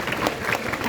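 A crowd at a school Republic Day celebration breaks into applause, a brief, fairly loud burst of many hands clapping together with faint crowd murmur underneath.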